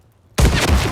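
Single film gunshot, a sudden sharp blast out of near silence that hits loud and then rings on with a booming tail for the rest of the moment.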